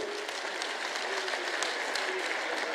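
A crowd at a Sant Dhanna Bhagat Jayanti gathering in the Pillukheda grain market claps continuously to welcome chief guest Manohar Lal Khattar, a dense, even roar of applause from many hands.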